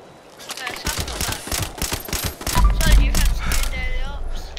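Automated turrets firing in the video game Fallout 76, rapid bursts of gunfire crackling densely across the stretch with a few heavier low thumps midway, loud and close, with game sounds layered over it.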